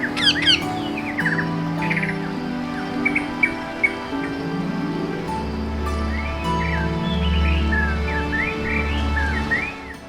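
A young hand-reared female Indian rose-ringed parakeet, about two months old, gives repeated short squawky chirps and whistles against a steady low humming background.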